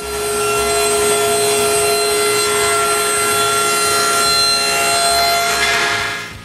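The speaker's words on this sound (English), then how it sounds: "I start by cutting some 1/2 inch Baltic birch plywood" A power saw cuts through half-inch Baltic birch plywood with a loud, steady, tonal whine that holds for about six seconds and then winds down, with no talking.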